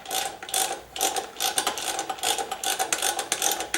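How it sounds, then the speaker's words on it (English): A ratcheting wrench tightens a tubeless rim lock nut on a new motorcycle rim, giving a rapid series of close, sharp clicks in quick repeated strokes, with no voices. "That's where the ratcheting wrench comes in handy"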